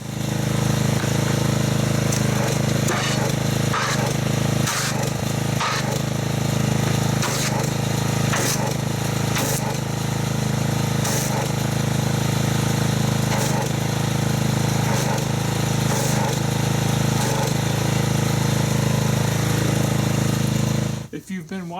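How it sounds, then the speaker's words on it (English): A pressure washer runs loud and steady throughout, spraying foaming car wash soap (Chemical Guys Extreme Maxi Suds II) onto a car, with a droning motor hum and repeated bursts of spray before it cuts off at the end. "So let me get the pressure washer and let's see how well this soap foams up."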